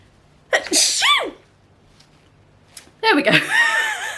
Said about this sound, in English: I'm so gonna sneeze.